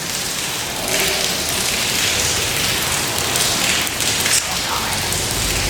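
Steady rain falls on surfaces near an abandoned power plant, a dense, even hiss with scattered louder patters and a brief sharper knock near the end.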